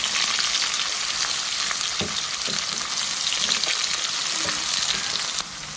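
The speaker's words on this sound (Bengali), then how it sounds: "এখন পেঁয়াজ লাল লাল করে ভেজে নেব।" Chopped onion and green chili frying in hot oil in a pan, a steady close sizzle running throughout with occasional soft stirring scrapes and clinks.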